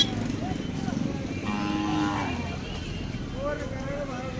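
A young Khillar bull moos faintly beneath a voice describing the animal. The call is low and drawn out against quiet outdoor farm ambience.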